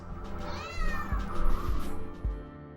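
A cat lets out a drawn-out, rising and falling meow over a low background hum and a few soft thumps, fairly close, with no talking.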